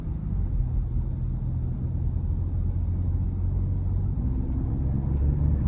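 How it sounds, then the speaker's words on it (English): A 2023 Lincoln Nautilus Black Label AWD with the 2.7T twin-turbo V6, in sport mode, accelerates with a steady, loud low cabin rumble and road noise heard from inside, without talk. "And then the pull from the turbos, my goodness, just fantastic."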